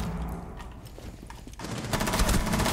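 Video game gunfire in a ranked solo queue match, dense rapid bursts of shots that build toward the end, loud and close, with no voices.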